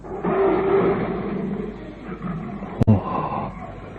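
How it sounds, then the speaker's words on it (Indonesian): A lion roars as a sound effect in an Indonesian audio drama about Ken Arok, a broad, sustained growl filling most of the clip, cut by a brief sharp crack near the end, with no voices heard. "Auman singa itu lagi."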